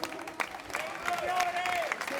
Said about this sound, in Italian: Facciamo un applauso a Francesco.